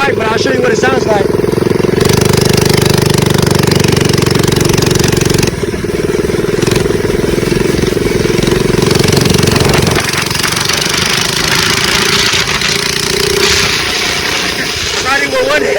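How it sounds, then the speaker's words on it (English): Coleman CC100X minibike with a chrome straight pipe and no muffler, its small engine droning loud and close throughout, with a few shifts in pitch as the throttle changes during the ride. "Straight pipe, no exhaust."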